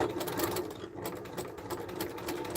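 A sewing machine stitches a quilting line through fabric and batting for a sweater quilt, with a fast, steady mechanical whirring and needle chatter close up, running almost continuously with one brief dip and no talking.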